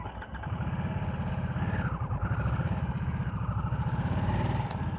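The 900cc engine of a 2023 Harley-Davidson Nightster Special idles close by with a steady low throbbing pulse. It picks up slightly after a brief start, with no talking.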